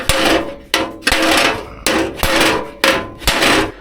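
Hammer blows on a Volkswagen Beetle steel body panel being reshaped, six loud close strikes in an uneven rhythm, each ringing metallically before the next.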